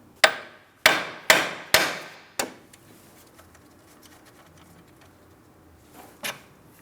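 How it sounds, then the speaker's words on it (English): Five sharp metallic hammer taps ring out on the steering knuckle of a 2004-2008 Pontiac Grand Prix in a steady rhythm, followed by quiet and one fainter knock near the end. "I'm going to lightly tap on my steering knuckle, causing vibration."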